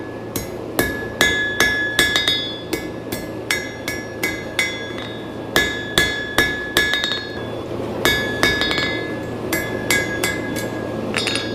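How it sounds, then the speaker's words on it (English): Steel is hammered on an anvil to bend it while forging a steak turner. Rhythmic, ringing metallic blows land in quick groups, a few per second, loud and close, with short pauses between runs. "you have to go back and forth from the side of the anvil to the top to make sure your material doesn't twist too much"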